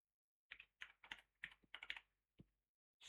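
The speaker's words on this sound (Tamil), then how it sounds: "ஹேக்ன்னு சும்மா டைப் பண்றேன்" Someone types on a computer keyboard: a quiet, close run of about nine separate key clicks in an uneven rhythm with short pauses, ending in one louder press.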